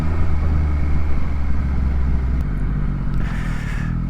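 Yamaha MT-09 SP motorcycle with an Öhlins rear shock, engine note rising under steady acceleration, loud and close throughout with dense wind rush and a brief change in tone near the end.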